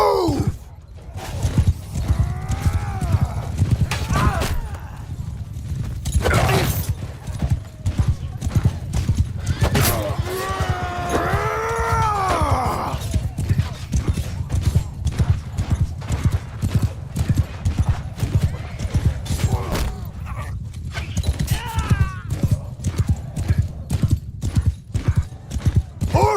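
Cavalry horses in the Mount & Blade 2: Bannerlord video game gallop in a dense, rapid clip-clop of hooves, with loud whinnies and battle noise layered over the drumming, and shouted voices in the mix.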